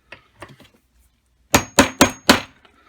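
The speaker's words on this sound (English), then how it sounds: "Tap it a couple of times." A kit tool taps a Welch plug flat into a carburetor: a few soft light taps, then four sharp, ringing metallic strikes in quick succession, close and loud.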